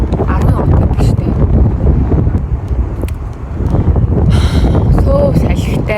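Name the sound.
strong wind blowing on microphone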